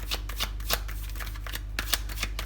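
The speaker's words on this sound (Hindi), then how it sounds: "पहले मैं सारे कार्ड्स शफल करके निकाल लेती हूँ" Tarot cards are shuffled by hand in quick, riffling bursts, a close, crisp flutter of card edges repeating in an uneven rhythm with no talking.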